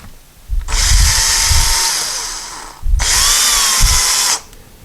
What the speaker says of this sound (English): Now you want to be careful when you're pre-drilling.